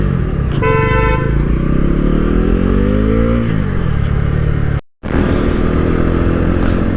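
A 2025 Bajaj Pulsar NS400Z motorcycle revs, its exhaust note climbing steadily in pitch and then dropping back to a loud idle, with a short horn honk near the start and a brief cutout near the end.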